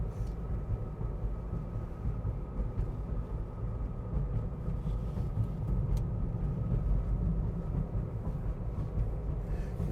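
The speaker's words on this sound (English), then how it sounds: "So driving a little bit further into Jacumba proper" Car driving along a road into Jacumba, a steady low engine and road rumble with tire noise, continuous and fairly loud from inside the vehicle.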